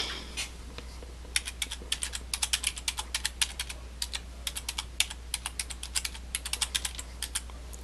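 Rapid keystrokes on a computer keyboard as a username and password are entered, irregular bursts of close, crisp clicks with short pauses, alone over a low steady hum.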